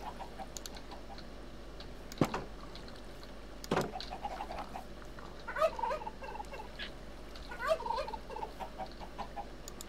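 Minecraft chickens cluck in short, faint bursts amid soft in-game ambience, with a couple of sharp clicks and no talking.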